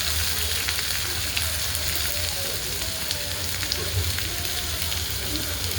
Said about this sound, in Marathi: कांदा असा खूप लाल पण नाही करायचा थोडासा फ्राय करायचा